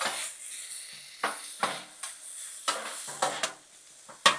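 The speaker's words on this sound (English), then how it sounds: "It won't take long at all to brown this hamburger meat." Hamburger meat browns on a Blackstone griddle with a soft, steady hiss of frying, broken by a series of scraping spatula strokes at irregular intervals, close and moderately quiet with no talking.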